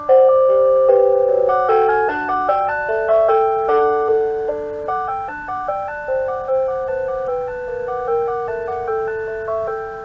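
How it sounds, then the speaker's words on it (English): A Mr. Christmas Gold Label Holiday Carousel plays "The Entertainer" at maximum volume, a bright, close music-box melody of plucked metallic notes in a steady bouncing rhythm, with no voices. "Oh yeah, the entertainer. Crank it up. That's max volume there."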